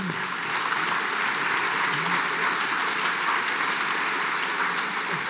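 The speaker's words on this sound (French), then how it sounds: "vous pouvez applaudir Annie Genevard." Audience applauding a speaker at a French event, a dense steady clatter of many hands sustained evenly throughout, fairly loud and close with no talk over it.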